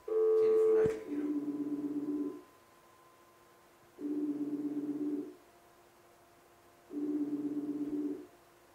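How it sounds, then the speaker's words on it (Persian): A telephone line sounds a repeating electronic tone in three evenly spaced bursts about a second long, with a brief burst of dialing at the start, fairly quiet and clean, set in a live call-in show. "دوباره از تلفن اش میگیرم"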